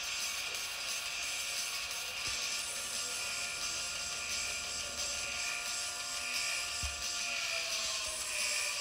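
Steady helicopter rotor drone with a high whine, constant and fairly distant, with a couple of faint low thumps, in the Roblox game Car Crushers.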